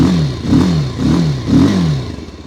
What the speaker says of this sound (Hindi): एक बार दोनों ही बाइक्स की एग्जॉस्ट साउंड सुन लेते हैं कि एग्जॉस्ट साउंड कैसी रहने वाली है